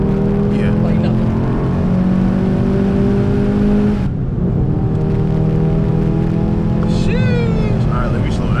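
A VW MK7 GTI fitted with an IS38 turbo accelerates hard from inside the cabin, its loud engine drone climbing through the gears, with a brief dip at a shift and a short voice near the end.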